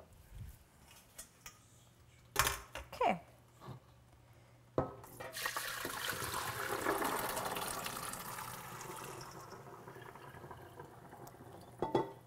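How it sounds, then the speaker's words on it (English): Running tap water rinses rehydrated black beans while Cuban food is being cooked, a steady broadband wash of flowing water that sets in after a few clicks and knocks and keeps going, close and moderately loud, with no talking. "black beans that are now rehydrated. As soon as I rinse these out."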